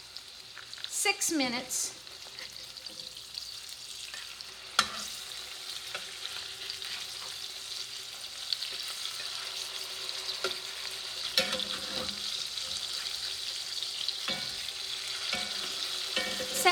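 A salmon fillet sears in a hot pan just after being flipped, a steady close sizzle and crackle with a few sharp scrapes and clatters as it is turned, while a person speaks briefly over it.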